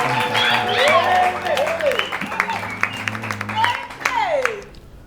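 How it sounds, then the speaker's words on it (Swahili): A church audience claps after a testimony, scattered applause under loud talking and cheering voices that dominate the mix. "makofi tena mengi"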